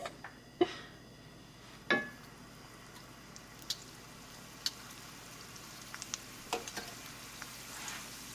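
A chimichanga tortilla fries in hot oil with a soft, steady sizzle. Occasional sharper pops and crackles come through, close and fairly quiet, with no talking.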